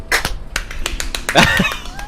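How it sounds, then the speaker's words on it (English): A few sharp, scattered claps and snaps from several people, not quite together, with brief chatter and laughter around them. "let's do a unison clap to like start the podcast"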